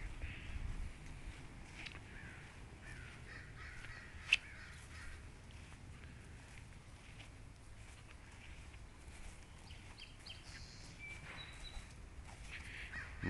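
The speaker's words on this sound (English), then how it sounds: "You hear a bird up there?" Bird calls from overhead outdoors near a backyard chicken run, crow-like caws with one sharp brief call standing out against a low, steady outdoor background rumble.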